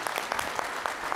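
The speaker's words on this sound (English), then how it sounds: "please give a round of applause for Mark Neveau" Audience applause for a speaker at a conference, a short, steady patter of many hands clapping at moderate volume, over in about a second.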